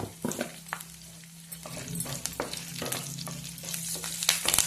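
Hot oil tempering with garlic, curry leaves and turmeric for a ridge gourd chutney in a village kitchen, giving a close, steady sizzle with scattered crackles and pops and no talking.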